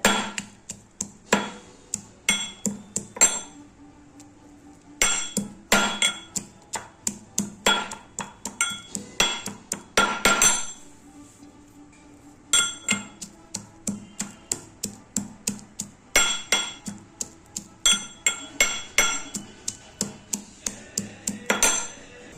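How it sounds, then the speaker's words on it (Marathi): Garlic pounded coarsely in a village kitchen for a tomato thecha, heard as bursts of sharp, rapid knocks with brief pauses between sets, close and loud, with no voices. "आणि इकडे हा लसूण ठेचून घ्यायचा आहे."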